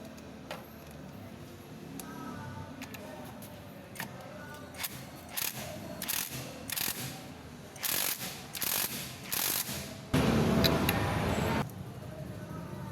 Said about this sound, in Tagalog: Pwede na nating higpitan. 19 mm